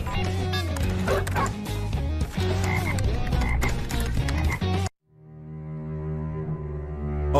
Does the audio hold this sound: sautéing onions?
no